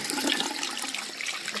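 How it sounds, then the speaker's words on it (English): Ear plugs rinsed under a running tap, with a steady, close rush of flowing water throughout the short moment and no voices. "It's gonna rinse them like this under the running water."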